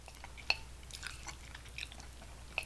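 Soft, close chewing of cheesy Samyang instant ramen noodles in a quiet mukbang, with faint wet munching and a couple of sharper smacks.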